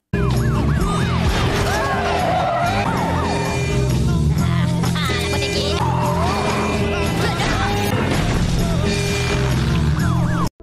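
Police car sirens wail and yelp continuously through a chase scene in the Minions movie, with several sirens overlapping above engine and road noise and frantic music, all loud and sustained with no break.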